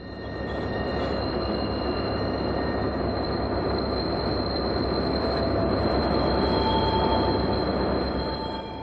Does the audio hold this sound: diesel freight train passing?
yes